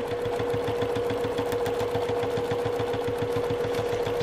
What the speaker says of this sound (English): Stitching right through the plastic.